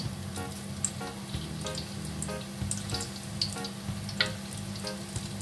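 Steady crackling sizzle of potato balls frying in hot oil, with occasional louder pops and a low background hum.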